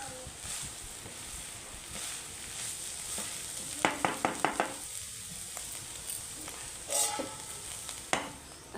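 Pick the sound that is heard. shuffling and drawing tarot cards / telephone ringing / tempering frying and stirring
tempering frying and stirring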